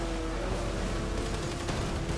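Shotgun fire in the online video game GTA V, a dense, continuous barrage of game gunshots running through the whole short stretch at steady loudness with no speech.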